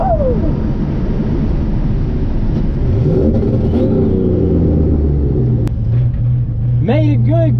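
Stock 4.8 truck on a drag strip making a pass, its engine rumbling and revving steadily under ongoing talk, with a rising then sustained drone through the run.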